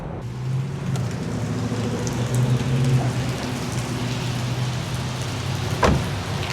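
Steady rainfall in Southern California, a continuous hissing wash with a low rumble beneath and a single sharp knock near the end, moderately loud and uninterrupted.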